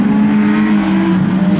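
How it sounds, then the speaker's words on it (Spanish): Race cars in a street legal circuit race, one a BMW, accelerating hard with a loud, steady, droning engine roar that holds close and continuous throughout. "Mansur sale acelerando el BMW"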